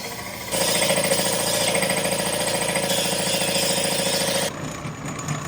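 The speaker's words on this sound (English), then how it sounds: "I think the air compressor's about to explode" An air compressor runs loud and steady for about four seconds, a dense mechanical rattle and drone that cuts off abruptly, leaving faint background noise in a garage during turbo work on a car.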